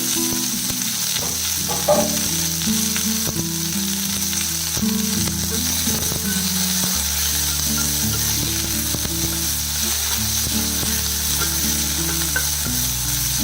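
Chopped ivy gourd (kovakka) sautés in a hot pan over a medium flame, making a continuous close sizzle with occasional stirring scrapes throughout, and no one talking.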